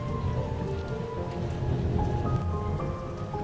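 Heavy rain hammers down in a continuous loud hiss of drops, with a low rumble like distant thunder rolling beneath the downpour and no voices.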